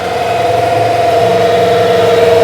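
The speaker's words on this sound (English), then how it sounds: "Wind her up." A New Holland TL-90 turbocharged diesel tractor engine revs high and steady, a loud, sustained whine and drone holding close and constant with no voices over it.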